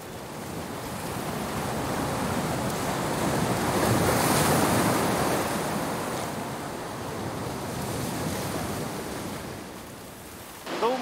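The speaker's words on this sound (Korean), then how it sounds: "파도가 죽이네." Ocean waves roll in and break on a Humboldt Current coast where penguins live, a loud, close wash of surf that swells and fades under gusting wind buffeting the microphone.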